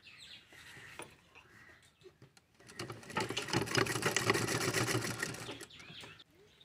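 A sewing machine stitches a seam on a round fabric stationery pouch, running steadily for a few seconds after quieter handling of the cloth, with faint bird chirps in the background.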